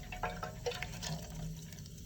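Water poured into a cooking pot in a home kitchen, a continuous gentle splashing and trickling stream with a few brighter splashes, close by and fairly quiet.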